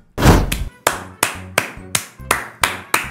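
Celebratory clapping after a game victory, heard as about eight sharp, loud, evenly spaced single claps close up, with no voices.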